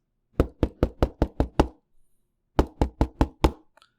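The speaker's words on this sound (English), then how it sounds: "the sound when I knock the box" Knuckles rap on a thick, sturdy cardboard box holding a Nikke Alice figure: a quick run of six close, hollow knocks, a short pause, then five more in the same steady rhythm, loud and near.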